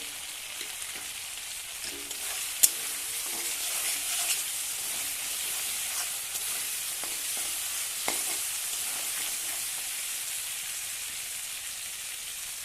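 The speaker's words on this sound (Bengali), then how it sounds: "চিংড়ি মাছ আর সর্ষে বাটাটাকে কিছু সময় দেখে এদের নেড়ে চেড়ে নিতে হবে" Shrimp and mustard paste sizzle steadily in a hot pan for a shukto of helencha greens, a constant close hiss like rain with a few faint clinks and scrapes of stirring, and no talking.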